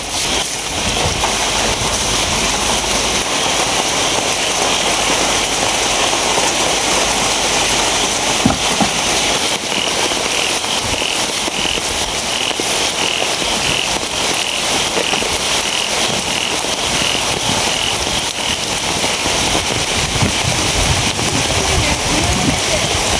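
Heavy rain with gusting wind pours down steadily outdoors during a flood-stricken storm, a dense, continuous broadband hiss that stays loud and unbroken throughout, with no voices.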